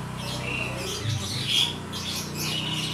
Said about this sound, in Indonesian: Ya kita ada yang kangen sama suaranya burung, maka kita sekarang ada suara burungnya.